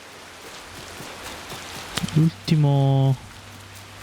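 Steady rain falls across an outdoor scene in the video game Assassin's Creed Shadows, a soft constant patter running under the whole stretch while a voice speaks briefly and a sustained tonal chime rings out near the end.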